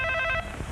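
A telephone bell ringing in a comedy scene, sounding in rapid repeated electronic trills for a moment before cutting off into quiet room noise.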